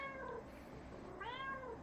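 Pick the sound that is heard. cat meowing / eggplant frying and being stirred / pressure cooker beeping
cat meowing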